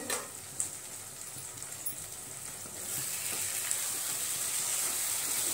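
Water poured into a pan of sprouted val beans cooking for a Kokan-style bhaji; a soft sizzle swells midway into a louder, steady hiss.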